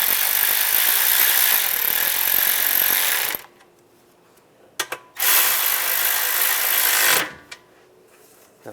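Power tool buzzing as bolts are driven into a Toyota Corolla A/C condenser (2014-2019 model), two loud sustained bursts of a few seconds each separated by a quiet pause with small clicks, close and alone with no talk.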